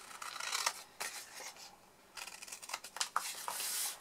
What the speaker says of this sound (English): So wedge that side and cut the corners away.